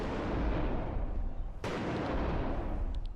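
Gunfire and a booming blast wave in a first-person shooter game, a dense roaring rumble with a sharp crack midway that rolls and echoes down a corridor, loud and sustained throughout.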